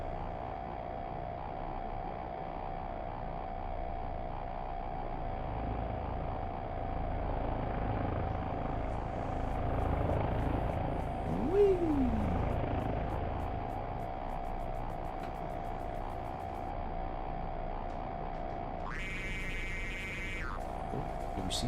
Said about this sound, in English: In a helicopter.